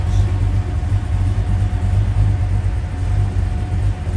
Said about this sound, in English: I'm going to reach in and go ahead and fire this up.